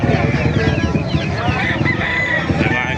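A gamecock crows at a busy chicken market in Calumpit, Bulacan, loud and near, with other fowl clucking and people talking throughout.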